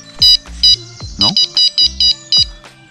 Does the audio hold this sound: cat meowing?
no